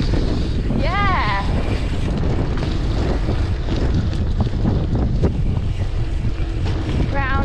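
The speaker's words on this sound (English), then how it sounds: "It's so windy." Strong wind buffets the microphone during a motorcycle ride on a race track, producing a loud, constant rumbling roar throughout, with voices talking briefly over it.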